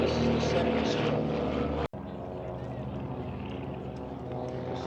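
Vintage light airplanes, including a 1946 Bellanca and a Cruise Air, fly past at the Oshkosh airshow with a steady propeller drone. A brief cut interrupts it partway, then the engine hum continues.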